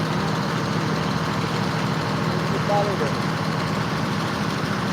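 A sand lifting machine's engine runs steadily on a boat at sea, a continuous loud low drone with a throbbing rhythm that never lets up.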